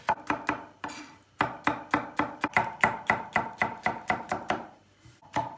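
Onions sliced not too thin with a knife on a cutting board, a steady run of crisp close chops in quick rhythm with a couple of brief pauses, no voices.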